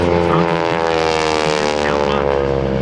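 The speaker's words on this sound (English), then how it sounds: "It is powered by 3 J34 Pratt & Whitney jet" A loud, steady roaring whine of three Pratt & Whitney J34 jet engines powering a Peterbilt jet truck at an airshow, sustained throughout with a droning harmonic tone.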